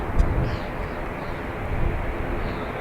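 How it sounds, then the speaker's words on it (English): An ATR turboprop aircraft at Dublin Airport drones low and steady in the distance, a broad rumbling hum under breezy crosswind noise, with faint whine above it and no talking. "We can hear an ATR"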